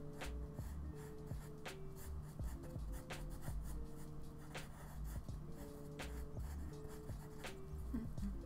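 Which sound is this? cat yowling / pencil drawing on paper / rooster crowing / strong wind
pencil drawing on paper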